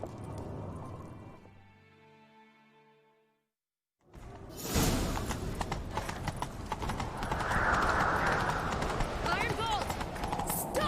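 In The Witcher 3, a fading musical tone gives way to a horse galloping with rapid, rhythmic hoofbeats close by, joined by wind rush and a whinny, while voices talk over it.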